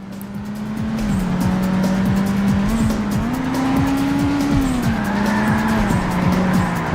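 A racing car drifting in Burnout 2, steady engine drone with a long, continuous squeal of tires across several seconds, loud and close, with no voices.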